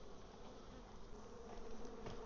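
Honey bees buzzing around a beehive while honey is being pulled, a faint, steady, continuous drone of many insects with no voices.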